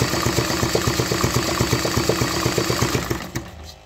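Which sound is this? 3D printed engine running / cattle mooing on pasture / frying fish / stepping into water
3D printed engine running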